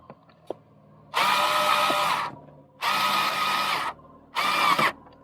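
A power screwdriver driving a screw into a Porsche Cayman/Boxster 987 while the air filter is changed, running in three loud close whirring bursts of about a second each with short pauses between, after a couple of small clicks.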